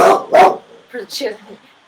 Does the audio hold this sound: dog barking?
yes